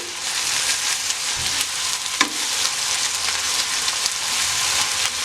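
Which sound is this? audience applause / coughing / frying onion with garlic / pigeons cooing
frying onion with garlic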